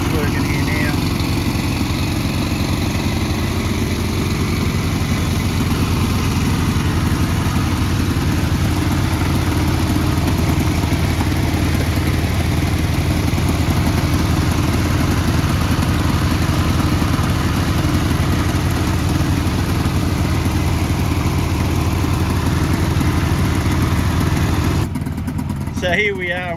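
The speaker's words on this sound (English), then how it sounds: "Got the dredge working here now." Small engine of a towed gold dredge on a river, droning loudly and steadily without a break, close up with water rush mixed in and a voice faintly underneath.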